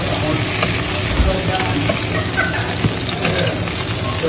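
Onions and peppers sizzle loudly in a frying pan after sausages are taken out, a dense, constant crackling sizzle up close with faint stirring clicks.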